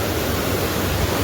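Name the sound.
Markande river flowing very fast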